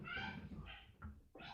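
A pet French bulldog whines and cries in several drawn-out, high, nasal bursts close by, with short gaps between them, sounding almost like a meowing cat.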